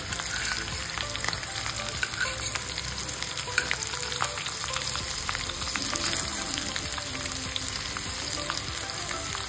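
Stuffed bitter gourd (bharli karli) frying in a pan with spice masala, a continuous close sizzle and crackle with scattered sharp pops and occasional scrapes, no voices.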